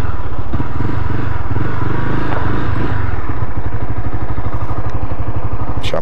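A Honda motorcycle engine runs close by, in gear, with a loud, throbbing idle, its rapid pulsing beat steady throughout, and a little clatter on top.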